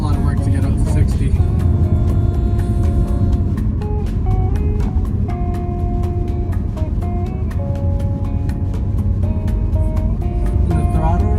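A 2021 Nissan Altima SR strains as it accelerates to 60, its engine drone rising steadily inside the cabin, with shifting tonal whine and road rumble underneath.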